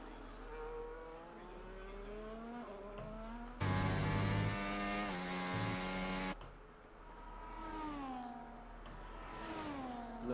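Race car engines revving in a racing video game on a Spain circuit, a steady high whine rising and falling, with a louder, harsher burst of revving for a few seconds in the middle.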